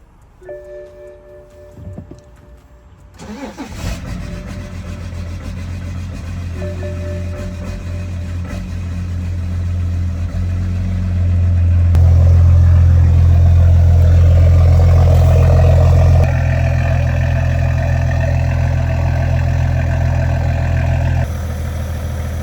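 A BMW E60 that sat unused for a week cranks and fires up, then settles into a steady loud idle with a swell of revs partway through, the engine close by.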